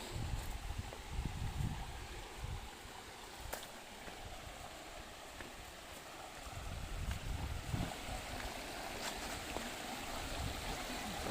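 A stream near the Rayala Cheruvu waterfall near Tirupati rushes and burbles continuously outdoors, a steady broad wash of flowing sound mixed with some wind noise, with no talking.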